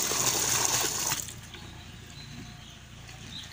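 Water with Megadox powder for broiler chicks on their second day of brooding is stirred and sloshed in a container. The rushing liquid noise is loud for about a second, then settles to a softer trickle, with no speech.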